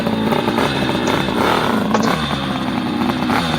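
A motorcycle likened to an Isle of Man racer runs steadily and loudly up close, its engine note holding with slight rev fluctuations throughout.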